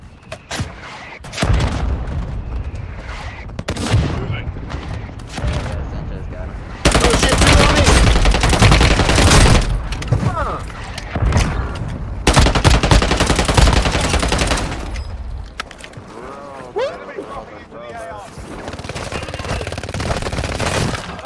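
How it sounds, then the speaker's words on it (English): Mortar strike explosions and heavy gunfire in the Warzone Mobile video game, loud sustained bursts and booming impacts in long stretches, with a player talking in between. "Friendly mortar strike inbound."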